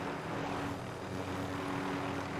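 A steady droning engine hum with a constant tonal whine, like a helicopter nearby in Call of Duty: Warzone, continuous and unchanging throughout.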